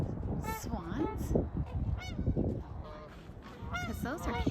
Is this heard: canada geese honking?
yes